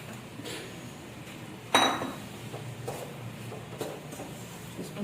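A spoon stirs chicken makhni handi in a pot, one sharp metallic clink against the rim followed by softer scraping and light taps, close and fairly quiet.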